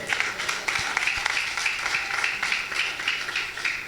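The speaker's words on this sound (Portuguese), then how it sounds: "E as palmas louvam ao Senhor." Rhythmic clapping from a church congregation praising God, steady and fairly faint with even beats that sound somewhat distant.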